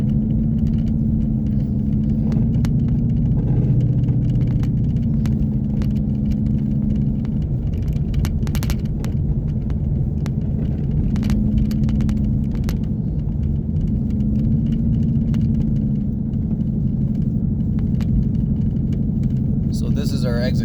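A 2016 Ford Mustang on Bridgestone Blizzak WS80 winter tires cruises at highway speed on a winter road, a steady low tire and engine rumble running throughout with someone talking over it.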